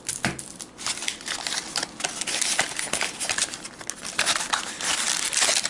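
Plastic wrapping torn and crumpled off a Magic: The Gathering Unflinching Assault intro deck from Fate Reforged, a steady close crinkling and crackling that rises and falls in bursts with no talking.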